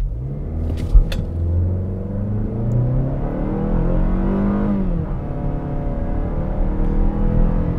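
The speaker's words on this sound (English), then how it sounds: "let's see what it does with a quick little acceleration test to 60" A 2023 Mazda3 with all-wheel drive accelerating hard from a stop to 60 mph, its engine rumbling and rising in pitch through the gears, steady and close from inside the cabin.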